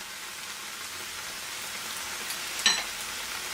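Carrots and celery sauté in a little oil with a soft, continuous sizzle and hiss, close but quiet, with one brief clink near the end.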